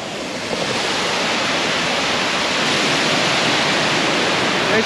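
Loud, steady rush of a forest stream pouring over rocks on the road to Kodaikanal, a continuous broadband roar with no pauses, close by.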